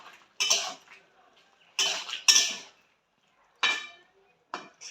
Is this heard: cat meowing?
no